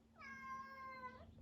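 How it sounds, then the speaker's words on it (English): A single drawn-out cat meow, loud and close, holding steady for about a second before trailing off, with no talking over it. "cat, shut up."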